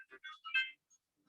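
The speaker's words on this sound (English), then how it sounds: "Phone call." Telephone ringtone from an incoming call, a short electronic melodic burst of several quick tones, clear and close, then silence.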